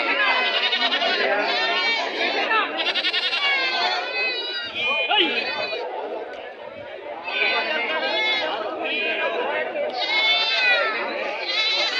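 Goats and lambs bleat over and over in wavering, overlapping cries, close by, with people chattering throughout at a livestock market.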